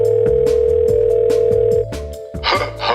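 A steady, loud telephone dial tone hums for nearly two seconds while someone places a call, with rhythmic thumping underneath. The tone then cuts off and a brief burst of clattery line noise follows.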